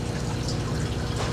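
Water flows into a DIY crayfish isolation system, a short steady stream of pouring and trickling liquid close by, unbroken and moderately loud.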